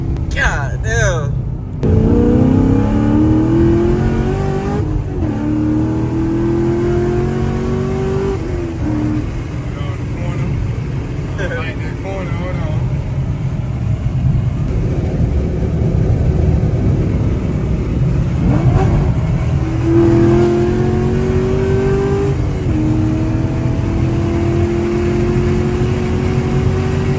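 A 2019 Camaro SS V8 fitted with Texas Speed catless headers and an X-pipe exhaust revs loudly and steadily, its engine note rising and falling in several pulls over a constant rumble, with some background voices.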